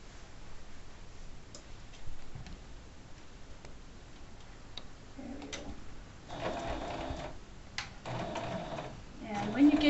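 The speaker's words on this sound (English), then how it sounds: "I'm going to go ahead and start sewing right along that line that we've made." A sewing machine stitches along a dart line, its needle ticking in quick mechanical bursts that start and stop in the second half, while a person talks over it.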